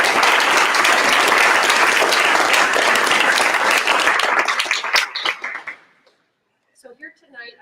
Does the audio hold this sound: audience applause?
yes